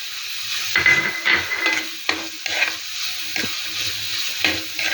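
Kerala catfish masala with kudampuli sautés in oil with a steady sizzle, while a spoon scrapes and stirs the pan in repeated strokes close by.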